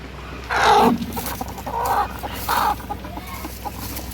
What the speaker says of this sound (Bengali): দেশি মুরগির উমেই বসানো হয়েছে